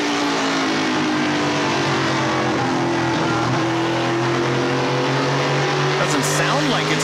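Onboard NASCAR Pinty's Series race car at the Pinty's Fall Brawl, its engine droning steadily and loud close to the mic, with harmonics gently rising and falling and occasional higher whines from other cars nearby.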